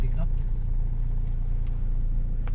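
A Toyota Innova turbo diesel accelerating on a test drive, a steady low engine rumble and road drone from inside the cabin, continuous and fairly loud.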